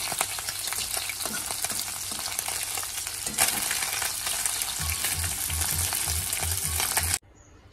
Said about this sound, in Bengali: আর এখানে তো এই যে লঙ্কা জিরে ভাজা করে নিচ্ছি, হেলাঞ্চা শাকটা রান্না করব বলে